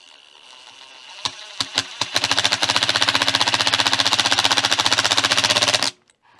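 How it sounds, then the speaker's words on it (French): A power tool drives a bolt into a water pump being repaired: a few short separate bursts, then a continuous rapid rattling hammer of impacts for several seconds, loud and close, cutting off abruptly. "On met une grosse tête. Là, et on visse."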